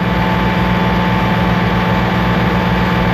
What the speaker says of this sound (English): can you hear the engine? It is a loud engine.